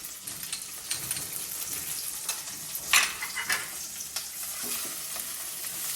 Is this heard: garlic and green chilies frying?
yes